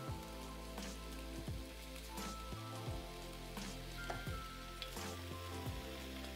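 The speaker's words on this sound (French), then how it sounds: "de volaille que je vais faire revenir dans un petit peu d'huile d'olive avec de l'oignon rouge" Poultry sausage pieces sizzle in a little olive oil with red onion in a pan, a faint, steady crackling fry with occasional soft stirring clicks and no voices.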